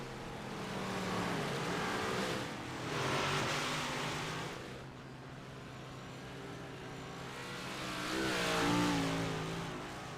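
Race cars lap the oval at Volusia, with engines droning steadily at a distance and swelling twice as cars sweep past before fading again.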